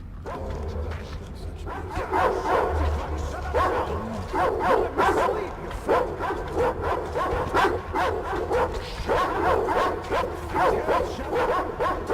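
Repeated dog barking and yipping in the video game Metro Exodus, loud and close over a constant low rumble, with the barks coming in quick clusters throughout.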